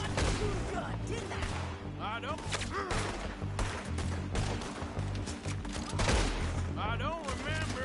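Rapid bursts of gunfire in Red Dead Redemption 2 crack out repeatedly through a shootout, loud and close, with voices talking between and over the shots.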